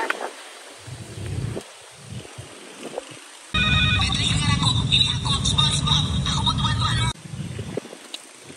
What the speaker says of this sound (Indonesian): Kau telepon Gideon ya